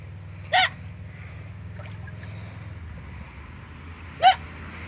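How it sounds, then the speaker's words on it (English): Two sharp hiccups from a person in a swimming pool, well apart and alone over a quiet low hum of pool water, no talk. "You got like a bunch of hiccups."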